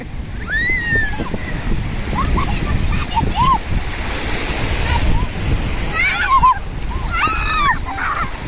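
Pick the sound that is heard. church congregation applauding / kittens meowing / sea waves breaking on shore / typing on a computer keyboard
sea waves breaking on shore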